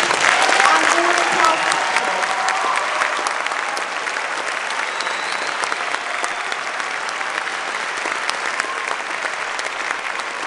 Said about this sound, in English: can we do a huge round of applause for the schools and all the